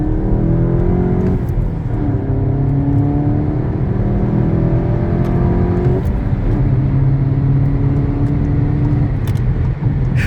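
A Volkswagen GTI engine pulls hard through the gears, its rising drone climbing in pitch, then dropping at each upshift before building again, loud and steady from inside the car with no talk.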